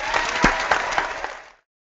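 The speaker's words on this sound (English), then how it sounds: "Giving you a big round of applause over here" Small group claps a short round of applause with a few sharp, distinct hand claps standing out, then the sound cuts off abruptly into silence.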